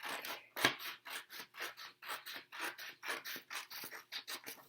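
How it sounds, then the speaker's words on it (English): Scissors cut along a creased fold in paper, a close, quiet series of about a dozen regular rasping snips with a steady rhythm and no talking. "So cut on that folded mark."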